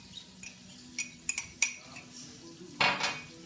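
A utensil stirs buttermilk and mayonnaise together into a dip, giving soft scraping with a few light clinks against the bowl and a brief louder scrape near the end, close and quiet with no talking.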